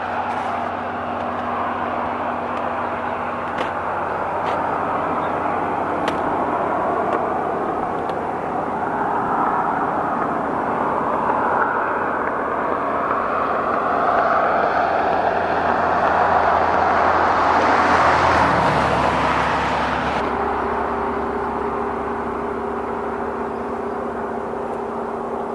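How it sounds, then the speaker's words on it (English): Cars pass on a road in a scenic area near Steamboat, Colorado. A steady traffic rumble swells as a vehicle nears and rushes past before fading, over a constant low hum. "A lot of cars going by,"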